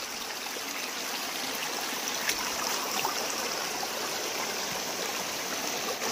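Ogi Waterfall in Angul pours steadily, a dense, even rush of falling water holding at a constant level throughout, with no voices over it.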